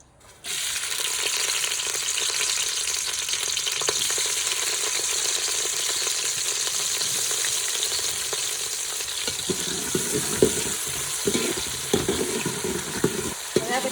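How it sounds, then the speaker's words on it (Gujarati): Chopped onions hit hot oil in a pan and burst into a loud, steady sizzle that holds throughout, then irregular scraping and stirring noises join in near the end. "તેલ થઈ ગયું છે ને આપણે ડુંગળી નાખી દઈએ."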